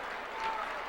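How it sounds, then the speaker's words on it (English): A crowd claps steadily at a 2006 high school boys basketball game between Norristown and Methacton, a continuous wash of applause with a voice talking over it. "Crowd starting to clap it up now."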